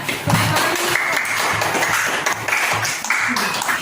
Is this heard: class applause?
yes